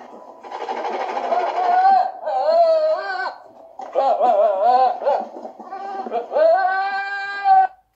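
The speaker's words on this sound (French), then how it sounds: "Alors là, c'est la chèvre qui a peur." A frightened goat bleats in four long, wavering, quavering cries, loud and close, with short pauses between them and no other sound around.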